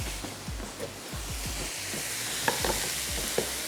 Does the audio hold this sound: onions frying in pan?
yes